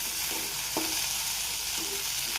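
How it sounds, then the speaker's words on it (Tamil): Okra frying in a pan with a steady sizzle and a few scraping stir strokes, close and alone, ending abruptly. "நல்லா ஃப்ரை ஆகட்டுங்க"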